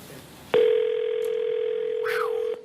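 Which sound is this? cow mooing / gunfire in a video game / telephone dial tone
telephone dial tone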